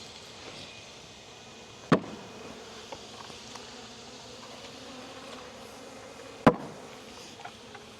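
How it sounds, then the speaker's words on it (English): Honey bees buzz softly at a hive while a three-frame colony is expanded to five frames in Jacksonville, Florida; the low, steady hum runs throughout, broken by two sharp knocks. "They're just buzzing from disorientation"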